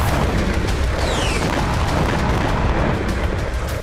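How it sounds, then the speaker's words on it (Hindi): Israeli army demolition blasts in Tulkarm in the West Bank, set off one after another, shown in news footage: a loud, continuous, booming roar with rumbling debris noise throughout and no talking. "वेस्ट बैंक के ही तुलकर्म में भी इजरायली सेना ने एक के बाद एक कई धमाके किए।"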